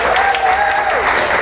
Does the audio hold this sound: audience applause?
yes